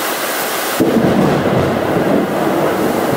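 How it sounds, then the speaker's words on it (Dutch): A thunderclap during a thunderstorm in India breaks suddenly and rolls on as a loud, sustained deep rumble, with no talk over it. "het onweer hier is echt great"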